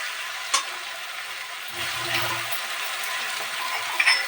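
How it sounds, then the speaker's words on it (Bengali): Bay leaves hit hot ghee in a kadai for a cabbage dish. A steady, close sizzle and hiss swells in the middle, with a couple of light utensil taps at the start and end. "ঘিতে অল্প একটু তেজপাতা দিয়ে ফোড়ন দিই"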